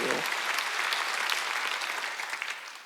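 A church congregation claps together during a Wednesday worship service, a steady, full wash of applause throughout that tapers slightly at the close.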